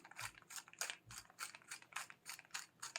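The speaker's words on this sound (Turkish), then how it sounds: "Birazcık karabiber çekiyorum ben." Black pepper ground in a pepper mill, about ten rhythmic grinding turns, close but fairly quiet, with no talk.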